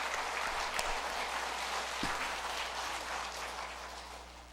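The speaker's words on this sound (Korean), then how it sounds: "서로에게 박수를 한번 쳐주십시오." A congregation at a Korean church worship service claps together, a soft, distant-sounding wash of applause that slowly tapers off.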